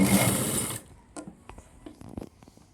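A sewing machine stitching a folded trouser hem runs loudly and steadily for under a second, then stops, followed by a few small mechanical clicks and handling sounds nearby.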